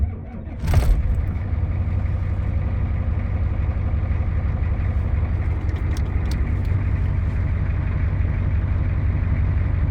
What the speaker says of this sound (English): If I push the clutch, it should fire up